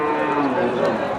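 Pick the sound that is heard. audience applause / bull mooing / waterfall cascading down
bull mooing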